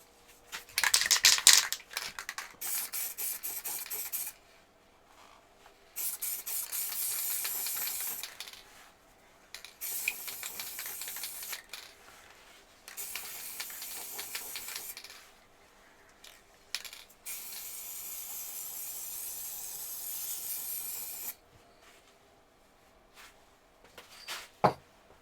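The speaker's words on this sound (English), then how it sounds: "So we're ready for spraying." Several bursts of hissing spray from a fresh aerosol can onto woodturning work, each lasting a few seconds with quiet gaps between, preceded by a brief rattle.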